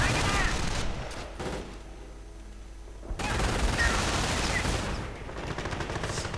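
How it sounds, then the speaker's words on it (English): Rapid machine gun fire in the World War II strategy game Company of Heroes, dense crackling bursts of automatic fire that pause briefly midway and resume, mixed with other battle noise. "getting pelted with machine gun fire, Panzer shreks galore."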